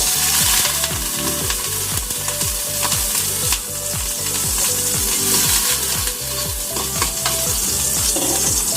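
Garlic sautés in a hot pan with a little oil for tuna with vegetables, a loud, close sizzle broken by a quick, regular rhythm of spatula strokes scraping and tapping the pan throughout.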